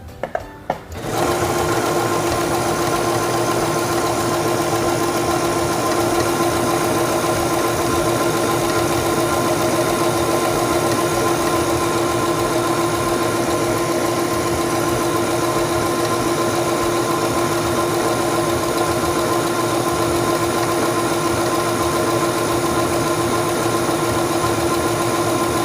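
A sewing machine runs steadily for a long stretch, stitching a decorative star stitch into fabric under the presser foot; the motor hum and rapid needle rhythm stay loud and even throughout, with no talking.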